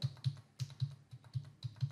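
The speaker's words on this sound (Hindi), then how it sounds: "कॉन्टैक्ट नंबर हम फिल कर देते हैं" Contact number keyed on a computer keyboard, a run of about nine crisp, evenly spaced keystrokes close up in a quiet room with no talking.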